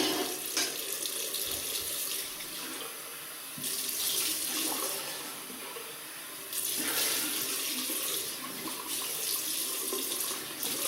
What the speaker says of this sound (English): just rinse off